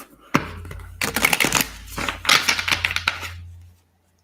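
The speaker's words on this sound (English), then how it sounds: "and we'll shuffle for Melissa." Tarot cards are shuffled close up in several quick riffling bursts, crisp papery rattles separated by short pauses, over a low steady hum.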